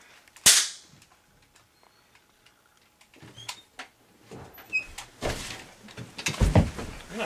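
A single sharp gunshot from a stage prop gun in a staged Hamlet play, loud and close, followed by quieter shuffling and movement noises.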